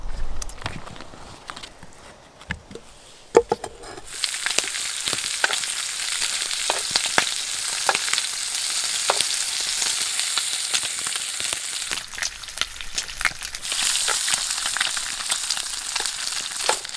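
Fresh butcher's bacon fries in a pan at a backcountry campsite during a rainstorm, a soft crackle that swells into a steady sizzle, dotted with small pops and faint handling noises.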